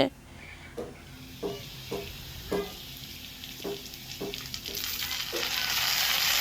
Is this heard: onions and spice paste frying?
yes